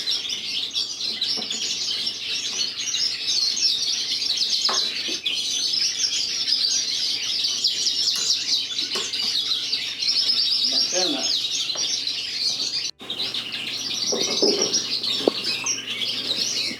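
Canaries in a cage after hand washing, dense continuous chirping and twittering with scattered wing flaps and rustles, close and lively, with a person talking intermittently underneath.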